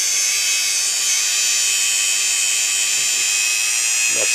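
Dremel 4000 rotary tool spinning steadily at 5,000 RPM, a constant high-pitched electric whine that stays loud and even throughout, with no talking over it.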